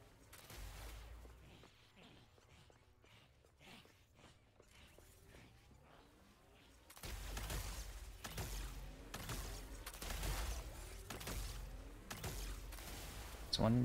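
Repeated gunfire in the Killer Klowns from Outer Space video game, loud sharp shots in bursts, heavier in the second half, with people talking over the action.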